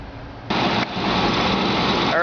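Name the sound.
newly installed electric radiator cooling fans running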